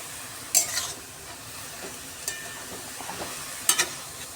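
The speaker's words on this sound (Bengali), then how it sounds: "ঘি দিয়ে এবার একটু ভেজে নিচ্ছি গাজরটাকে" Carrots fry in ghee with a soft, steady sizzle while a spoon stirs and scrapes the pan in a few sharp clinks, close and fairly quiet, with no talking.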